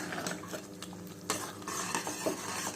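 A spoon scrapes and stirs through a thick tomato pickle in a pan over medium flame, with soft sizzling and occasional metallic clinks, quiet and close.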